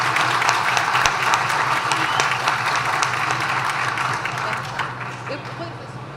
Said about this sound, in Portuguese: E muitas palmas para esses profissionais incríveis.